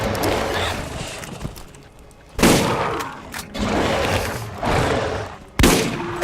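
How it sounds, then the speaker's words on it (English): Hip-fired guns in the Borderlands game, heard as several sharp loud bursts of shots separated by a few seconds of quieter, busier game noise, with mechanical clatter in between. "I don't like shooting from the hip."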